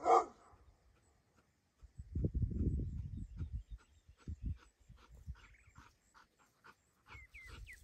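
A trained dog doing a poison bird retrieving drill gives one sharp vocal burst at the start, then a longer low rumbling stretch with short faint sounds scattered through the rest.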